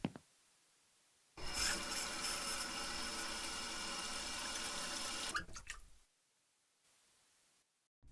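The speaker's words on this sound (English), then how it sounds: "It's first water." In a horror game about walking a dog at night, water pours in a loud, steady rush for about four seconds, then cuts off into a few trailing splashes before near silence.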